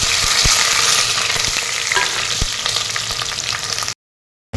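Onions and green chillies sautéing in a pan with bay leaf, cinnamon and cloves, giving a loud, continuous close-up sizzle with a few stirring clacks before cutting to silence.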